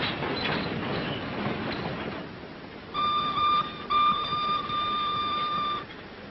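A train rumbling along a worn, rickety railroad in wartime China, steady clattering noise with high whining tones over the second half, heard alone without talk.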